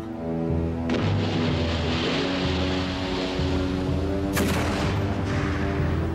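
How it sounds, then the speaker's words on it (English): Warship cannons firing in a close-range naval battle between a British flagship and the French line, heavy booms over a continuous low rumble with two sharp blasts standing out. "her cannon belched fire into the French flagship"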